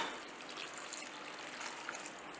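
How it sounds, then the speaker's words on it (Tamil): A cup of water poured into a pan of tomatoes spiced with pepper, cloves and dried chillies gives a soft, continuous trickling and splashing, faint and close, with no voices. "ஒரு கப்பு தண்ணி விடுறேன்"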